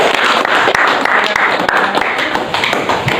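A class claps for a student group after their presentation, with dense, steady applause from many hands filling the room, close and loud for a few seconds.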